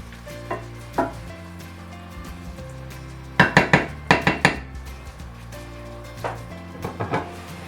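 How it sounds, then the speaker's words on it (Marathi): Prawns being stirred in butter in a pot for a prawn biryani, with scattered scraping and clinking spoon strokes against the metal, a few sharp clusters of knocks in the middle, under a low steady background hum. "चांगले ढवळून घ्या"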